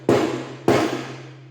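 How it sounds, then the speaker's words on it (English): A big hammer whacks a metal sleeve onto a snare cable laid on the anvil part of a vise: two loud, sharp metallic blows about half a second apart, each ringing briefly before fading. "Give it about 3 good whacks to pinch that onto that cable."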